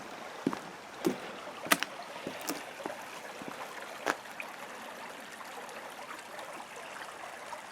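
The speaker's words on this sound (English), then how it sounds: "we have some running water here." A small stream runs beside a trail on the Ice Age Trail, a faint, steady trickle that carries on under scattered footsteps and soft knocks.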